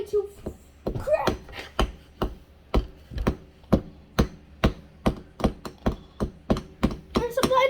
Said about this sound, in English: Emma, grab a hammer. It's going to crack.